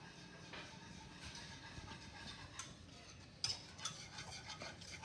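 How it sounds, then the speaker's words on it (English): Whisk stirring a South Carolina mustard BBQ sauce in a bowl, a steady faint scraping and ticking rhythm with a few sharper clinks near the end. "now we just gotta whip her up with the whisk"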